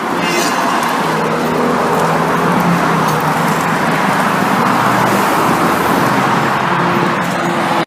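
Steady, loud traffic roar from cars passing close by on a road in the Los Angeles area, from Burbank over the hill to Brentwood, with continuous engine and tire noise and no clear gaps between vehicles.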